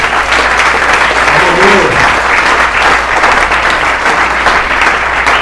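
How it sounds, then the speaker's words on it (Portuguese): A church congregation applauds together in a steady, dense wash of clapping that runs through the whole passage. A faint voice or music may sit underneath it. "Vamos aplaudir o Senhor."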